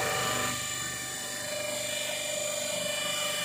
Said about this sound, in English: once you start the DC motor, the alternator will run